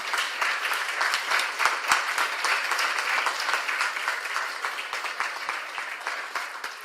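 A big round of audience applause at a Carnatic music birth anniversary celebration, dense sustained clapping from a large crowd that holds steady for several seconds with no talking over it.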